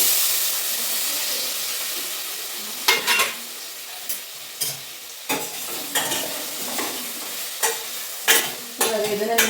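Paneer cubes fry with chili powder in a hot pan: a continuous close hiss and sizzle, broken by a spatula scraping and knocking against the pan in irregular strokes.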